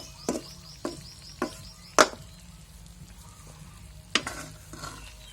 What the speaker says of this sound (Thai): นี่ก็คือการผัดหมูส้มนะครับ ใส่พริกสด